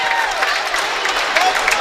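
A college basketball crowd and the Yeshiva Macs bench cheer after a made basket against St. Joseph's-Long Island, with loud shouts and whoops over a busy gym din and a few sharp yells near the end.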